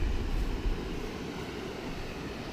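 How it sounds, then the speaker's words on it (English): River rapids in the Boundary Waters wilderness give off a steady, broad, rushing roar of water, heard from nearby and continuous throughout with no voices. "Right there it is, rapids."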